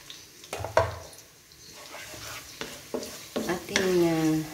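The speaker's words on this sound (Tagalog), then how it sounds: "ngayon ilalagay ko yung bawang. Kasi mainit naman" Garlic dropped into hot oil for pancit bihon hisses and crackles close by, with a few sharp scraping knocks as it is stirred and the sizzle building louder toward the end; a voice is briefly heard.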